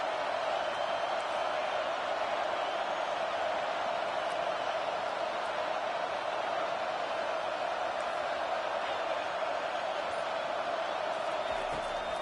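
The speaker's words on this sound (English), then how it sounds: "this crowd trying to help keep them there" Steady roar of a large stadium crowd at a football game as the home fans try to pin the opposing offense deep in its own end, a dense continuous wash of noise with no clear peaks.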